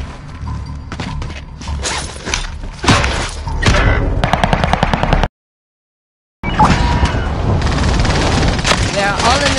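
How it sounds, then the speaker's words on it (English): Dense automatic gunfire and booming impacts from a Modern Warfare video game firefight, loud and continuous, cut by a brief full silence before the shooting resumes. "Bastard's trying to shoot me."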